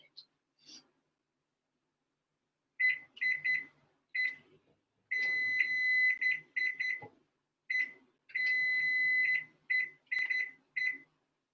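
A kitchen timer beeps in short, steady, high-pitched bursts, repeated in several runs with brief gaps, close and clear over faint background sounds.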